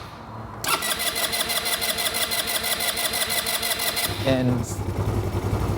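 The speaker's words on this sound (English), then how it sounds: "Give it a couple cranks." A Genuine Buddy scooter engine, just back from a carburetor clean and battery replacement, cranks with a rapid whirring starter for several seconds and then catches and settles into a running idle; a voice briefly speaks at the start.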